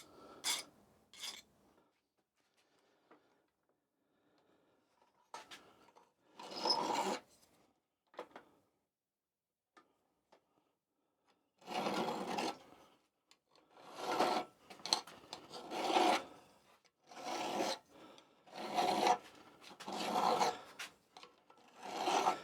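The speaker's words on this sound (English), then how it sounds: "All I need to do now is take off or chamfer the ends." Hand file chamfering the ends of a small metal part from the draft control internals of a David Brown 990 tractor, heard as rasping strokes in short bursts with pauses, then a longer run of steady rhythmic strokes, close and fairly loud.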